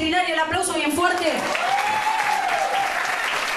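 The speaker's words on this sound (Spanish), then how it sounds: "El aplauso bien fuerte." An audience applauding at a live show in Puerto Madero, a steady wash of clapping under loud music with a singing voice and tonal melody on top.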